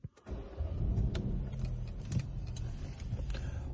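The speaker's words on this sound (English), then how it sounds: "So let me just start the car up." A Peugeot 3008 starts up: a brief crank catches and the engine settles into a steady, close idle hum.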